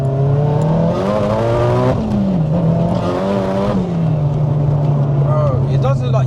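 The built Nissan Silvia S15 with its 2.1L stroker engine runs with a steady, loud drone and brief rises in pitch, heard close up under continuous conversation between men.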